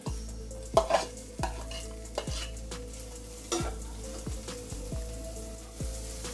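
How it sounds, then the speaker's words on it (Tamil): Drumstick leaves stir-fried with egg in oil for murungai keerai poriyal: a steady crackling sizzle with regular scraping spatula strokes in the pan, close and moderately loud. "இப்போ நம்ம எண்ணெயிலேயே வதக்கி வச்சுருக்க அந்த முருங்கைக்கீரையை அதில் சேர்த்து வதக்கிக்கலாம்."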